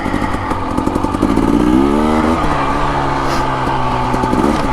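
Husqvarna TE250 and TE300 two-stroke dirt bikes ride rocky single track near Flagstaff, Arizona. A loud, close engine revs up and down in rising and falling sweeps, with rattling clatter from the rough ground throughout.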